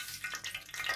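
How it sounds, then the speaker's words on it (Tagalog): Hot cooking oil sizzles steadily in a pan before tilapia goes in, a close, continuous bright hiss with small crackling pops throughout. "Ayan muna natin kumulo yung mantika bago natin ilagay yung tilapia."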